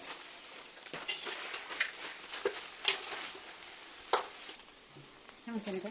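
Meat frying in a pan is stirred, producing a soft sizzle broken by irregular scraping and clattering strokes that come in uneven bursts, with some talking nearby.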